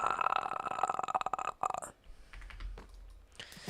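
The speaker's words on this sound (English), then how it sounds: "That was only a half real burp." A person lets out a short, low, half-suppressed burp while playing Minecraft, just after a burst of rapid computer keyboard typing; close and fairly quiet.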